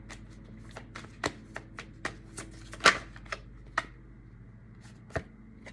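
Tarot cards shuffled by hand in quick, irregular bursts of crisp riffling and tapping, close and fairly quiet, with no talking.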